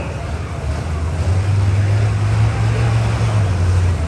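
A 2019 Case IH Optum 270 tractor at a tractor pull, heard as a steady low engine drone that holds for several seconds beneath heavy, wind-like outdoor noise, somewhat distant and unchanging.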